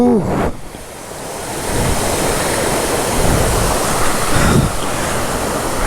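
Rushing water at Odugathur falls, seen from the top, a steady loud broadband roar with some wind buffeting the microphone, continuous throughout with no speech.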